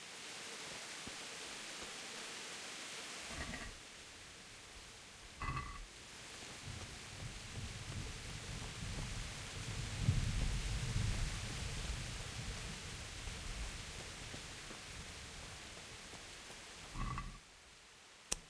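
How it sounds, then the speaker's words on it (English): Steady broadband rain hiss fills a medieval-style video game scene, continuous and fairly loud throughout, with a few brief sharper knocks and a swell of low rumble near the middle. "Is the rain a little bit loud?"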